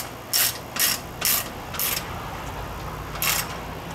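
A ratchet clicks in short bursts while fan mounting nuts are tightened on a Ford 302 engine build, five close, crisp ratcheting strokes with pauses between them.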